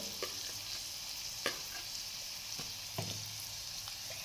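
Steady sizzling of onions frying in oil on a miniature gas stove, with a few soft clinks of a utensil stirring the pan; no voices.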